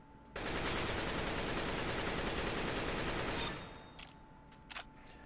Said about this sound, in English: 30 shots fired, 14 hit, 12 are in the head, 2 in the chest